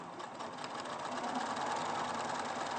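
A sewing machine stitches a quilt in a steady, continuous whir, fairly close and running alone without pause throughout.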